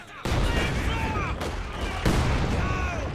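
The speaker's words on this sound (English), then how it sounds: "Mortar constantly going in" Mortar fire in a WWII real-time strategy match between Soviets and Wehrmacht: heavy booms hit at intervals, with one at the start, one around the middle and one near the end, over dense battle rumble and faint commentary.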